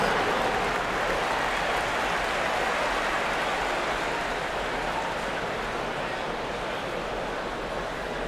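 Steady, dense crowd applause in the basketball video game NBA 2K25 fills the whole stretch, a constant hiss of clapping with no talking and no change in level.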